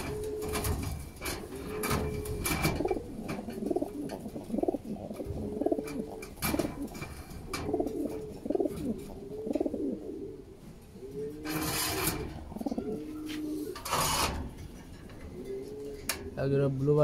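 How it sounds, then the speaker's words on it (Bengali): Lahori pigeons coo repeatedly in a small rooftop room, a steady run of soft, rolling bird calls close by, with occasional rubbing and sliding bumps and a brief clatter near the end. "আজকে আপনাদের কিছু লাহোরি কবুতর দেখাবো"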